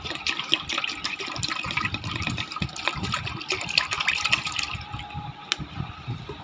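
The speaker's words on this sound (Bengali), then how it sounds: "পরিমাণ লিকুইড দুধটাকে পাতিলে ঢেলে দেব।" Liquid milk is poured into a cooking pot for making yogurt, a continuous splashing, gushing pour heard up close for several seconds.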